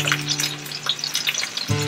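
Food sizzles steadily in a frying pan while Southern comfort cooking is underway, a continuous bright crackle with a few louder pops and a steady hum underneath, up close and with no one speaking.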